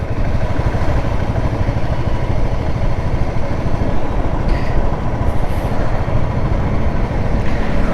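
A Royal Enfield Classic UCE motorcycle engine runs steadily in top gear, a loud, constant close-up drone with a thumping, even rhythm and no pauses or speech.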